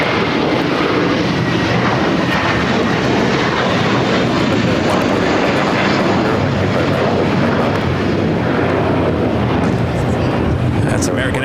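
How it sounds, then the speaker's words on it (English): An American Airlines Airbus A321 in Piedmont Airlines heritage livery, departing Los Angeles airport, gives a loud, steady roar of broadband jet noise that fills the whole stretch without letup. "That's American Airlines flight 1305 heading to Dallas, Fort Worth, Texas. A321 in the Piedmont Airlines Heritage livery."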